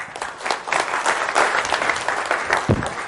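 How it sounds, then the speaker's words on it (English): Audience applause in a seminar room after a volunteer's on-stage exchange, a dense steady patter of many hands clapping for about three seconds, fairly close and even throughout. "Give Michael a round of applause."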